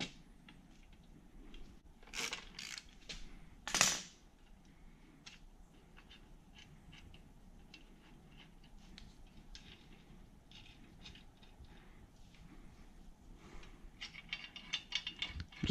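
Nuts being loosened on Harbor Freight 2-ton hoist jackstands give a quiet series of metallic ratcheting clicks and rattles, with a couple of sharper clanks early on, followed by faint irregular ticking.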